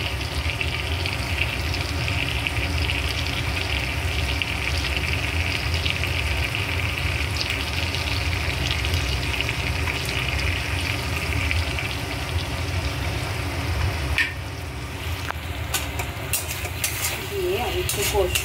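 Potatoes stir-fried in sizzling oil for a duck egg curry, a steady close frying hiss with scraping stirs running throughout, a few sharper clatters near the end.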